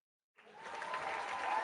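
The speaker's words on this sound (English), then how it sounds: "That deserves a round of applause." Audience applause for Luke at a real-estate talk, starting abruptly after a moment of silence and building into a soft, even spread of clapping that carries on to the end.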